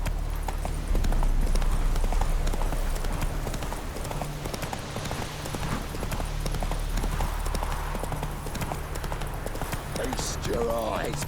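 Hooves of Roach, a horse in The Witcher 3, clip-clop at a steady trot through the whole stretch, close and fairly loud over a low rumble of background game sound, with some talk mixed in.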